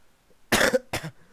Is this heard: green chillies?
no